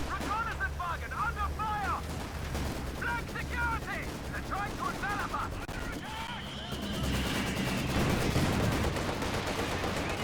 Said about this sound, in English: Oh, here comes another Stuka barrage.